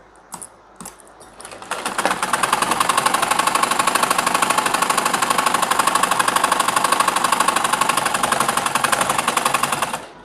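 A sewing machine runs for several seconds stitching a pajama pocket, its rapid, even mechanical chatter loud and close after a brief start.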